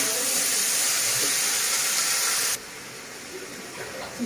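Snake gourd pieces added to a frying pan with fried onions hiss in a loud, even sizzle that cuts off abruptly partway through, leaving only a faint low background.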